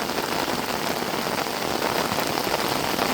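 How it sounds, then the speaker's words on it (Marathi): Steady morning monsoon rain falls evenly and fairly loud over farmland, a dense continuous patter with no pauses or voices. "मस्त पाऊस पडतो आहे"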